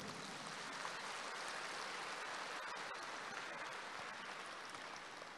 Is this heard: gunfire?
no